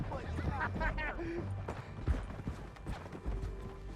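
Horse hooves clip-clopping at a fast gallop in Red Dead Redemption 2, a steady rhythmic pounding under game sounds and someone talking over it.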